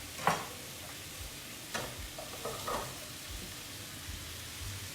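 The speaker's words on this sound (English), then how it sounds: "Now I'm going to put the red peppers into the zucchini and onions." Red peppers tossed into a pan of sizzling zucchini and onions, a soft steady frying hiss with occasional stirring clinks and scrapes, fairly quiet and close.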